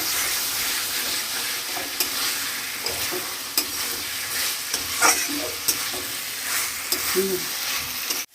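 Chicken pieces frying in oil-released spice paste with chui jhal, a broadband sizzle with scrapes and clinks of stirring throughout, ending abruptly.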